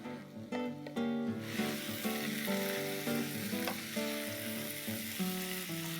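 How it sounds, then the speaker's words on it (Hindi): Tomatoes go into a frying carrot and green pea curry, giving a close, steady sizzle and hiss with soft stirring scrapes under light background music. "अब हम इसमें टमाटर डाल देते हैं।"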